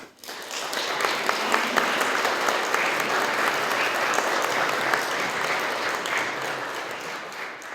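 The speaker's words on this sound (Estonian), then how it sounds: "Ma paluksin talle aplausi." Concert audience applause at a memorial concert, a steady wash of many hands clapping with scattered sharper claps, rising quickly after a brief start and continuing evenly throughout.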